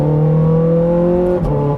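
A Ferrari 430 Scuderia engine holds a loud, steady high-pitched drone at sustained revs, heard up close with a brief dip near the end, no voices.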